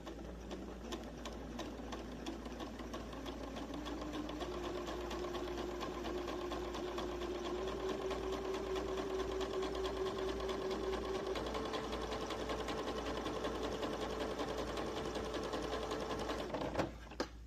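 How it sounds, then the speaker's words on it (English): Sewing machine running steadily for about sixteen seconds, stitching a straight line with elastic thread to shir fabric; a continuous close whir with a faint rising motor tone, no talk, stopping with a small clunk at the end. "then you're just going to sew a straight line"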